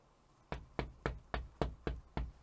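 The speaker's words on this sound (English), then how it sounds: "Try the good old-fashioned knock." Seven evenly spaced, sharp knocks on a door in a video game, loud and close with a steady rhythm and no talking.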